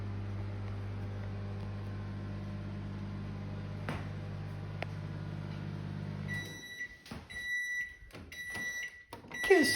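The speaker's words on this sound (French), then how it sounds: "j'entends le micro-ondes" Steady hum of a running microwave oven in a home kitchen, then it stops and sharp beeps sound at the end, fairly quiet and close.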